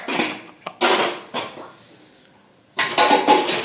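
A pile of dishes being handled in a home kitchen: several clattering clinks and knocks come in bursts with short pauses, close by.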